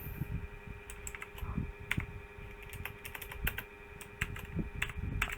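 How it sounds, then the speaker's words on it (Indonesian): Keys tapped on a computer keyboard while entering a name into a Bash script, a quiet run of irregular clicks with small clustered bursts over a low steady hum. "Kita ketikkan"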